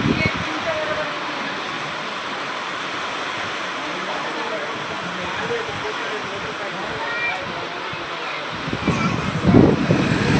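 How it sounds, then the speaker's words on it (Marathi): Heavy rain pours down in a village, a dense steady hiss of water with rushing runoff throughout, swelling briefly near the end. "पाऊस पहा तुम्ही, पाऊस"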